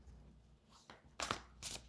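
Tarot cards being riffled and shuffled by hand, soft papery bursts with two louder flutters near the end, close and fairly quiet, no talking.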